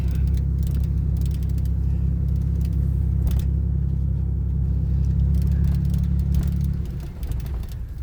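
A 4x4 truck drives along a gravel road in rural Missouri in winter, giving a steady, loud low engine rumble with road noise and faint crunching that eases off near the end.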